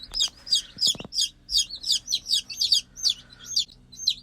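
Newly hatched chicks peep in an outdoor grow-up brooder, a fast run of bright, repeated chirps in a steady rhythm that carries on throughout, with a few soft knocks near the start and no talking.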